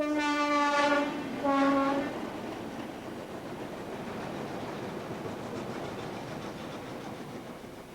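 A steam train horn blares twice, loud and close, then the steady rumble and rattle of rail cars rolling past fills the rest.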